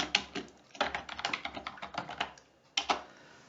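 Computer keyboard typing, a few short bursts of quick, light key clicks with brief pauses between, close and fairly quiet.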